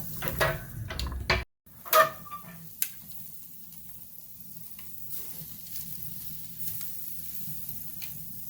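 A Butcherbox tri-tip steak sears on a hot grill at around 550 degrees, a steady low sizzle after a few opening clatters and bumps, quiet and continuous with no talking.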